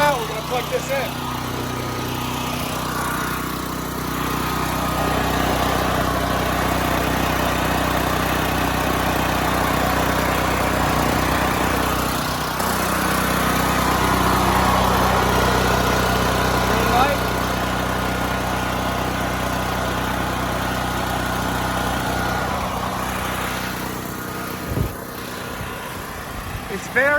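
A FIRMAN 9400 dual fuel generator runs with a steady, loud engine drone that holds throughout, with voices talking over it.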